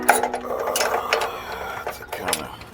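A socket wrench tightens an upstream oxygen sensor: a few short, close mechanical ratcheting and clicking bursts over faint background noise.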